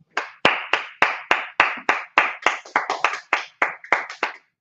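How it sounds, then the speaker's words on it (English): A group claps hands together in a steady rhythm, about fourteen sharp, loud claps at a regular pace with no talking between them. "Clap it up."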